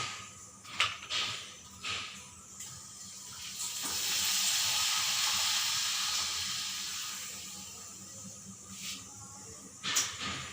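South Indian papadams frying in hot oil give a steady soft sizzle that swells to a broad hiss through the middle, with a few sharper crackles and clatters near the start and end, fairly quiet with no talk.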